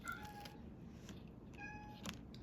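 Pet cats meow in a quiet room, two separate rising cries spaced about a second and a half apart, faint and fairly close, with no talking.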